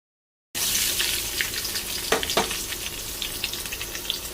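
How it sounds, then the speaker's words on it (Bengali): Spices fry in a pan with a close, continuous sizzle, broken by a few sharper crackles and pops. No one speaks. "মশলাটা ভাজা হয়ে গেছে"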